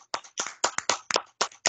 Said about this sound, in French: tous les membres doivent joindre pour applaudir